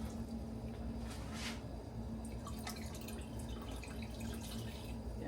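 Water is poured into a pot of roasted vegetable tomato sauce being made for canning, a steady close trickling and splashing pour lasting the whole moment.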